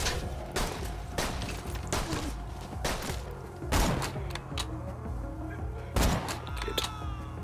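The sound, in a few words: gunfire in Borderlands 2 video game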